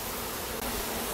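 Wild honeybees buzz steadily and densely up close while a hive is being moved and swept into a bucket, a continuous hum with no talking.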